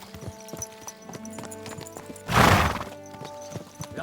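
In the video game Kingdom Come Deliverance 2, a horse's hooves clip-clop in a steady rhythmic walk. The horse lets out one loud, close neigh partway through, then the hoofbeats carry on, with no talking.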